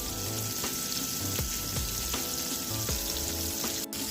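Battered fish fries in oil at about 365 degrees, giving a loud, continuous, crackling sizzle close up with a few soft bubbling pops and no talking.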